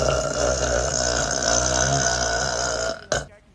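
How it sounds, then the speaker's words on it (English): A woman lets out a long, loud, sustained burp after drinking Montucky beer, rumbling steadily for about three seconds before a short second belch closes it out, close to the mic with no talking. "Montucky burps hit different"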